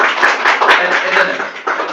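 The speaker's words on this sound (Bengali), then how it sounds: "করতালি দেন" A short burst of clapping from several hands, fairly loud and near, at a child's birthday celebration in an art academy.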